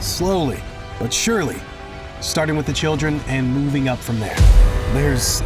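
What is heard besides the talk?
No everyday noise stands out behind the speech.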